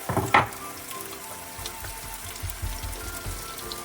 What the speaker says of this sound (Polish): Cebulę wrzucam na rozgrzany tłuszcz, słychać jak skwierczy.